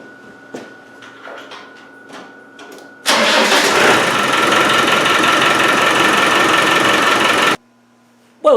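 Diesel engine of a Land Rover 110 cranking and catching after glow plug repair: a low hum of preheating, then a sudden loud, rough running roar for several seconds before cutting off abruptly.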